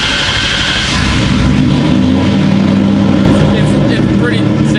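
A Ford Mustang with a newly fitted throttle body drives on a test run. The engine rumbles loudly and continuously from close by for the whole stretch, and a person talks over it.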